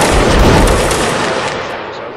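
Regiment's musket volley in Mount & Blade Napoleonic Wars, a loud dense crackling burst of many shots at once that rolls and fades over about two seconds, with no voices.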